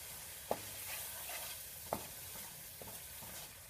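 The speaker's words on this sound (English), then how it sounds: "the spices we measured out, I'm going to go ahead and put those in." Spices for aloo gobi fry quietly in a pan, a low steady sizzle with a few distinct stirring clacks spaced out, faint and without talk.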